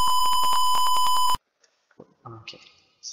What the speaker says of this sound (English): And the buzzer will be beeping and red LED will be lighted up.